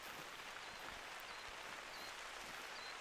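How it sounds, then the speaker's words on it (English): Steady rain falls in the hunting game theHunter: Call of the Wild, a soft, even hiss running unbroken and alone throughout. "but it's just the noise of the rain"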